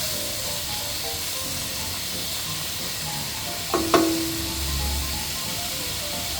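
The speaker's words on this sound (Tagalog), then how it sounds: "pinainit ko na itong kawali natin para sa bacon. Tutustahin lang natin yan." Bacon crisping in a preheated frying pan for an almost-carbonara gives a steady, even sizzle throughout, with a brief sharper hiss midway and a low hum near the end.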